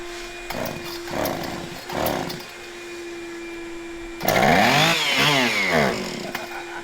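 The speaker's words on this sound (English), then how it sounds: "started working on this chainsaw" Chainsaw fitted with new hoses and primer bulb sputters through several short revving bursts, then catches and roars loud and close with rising and falling revs.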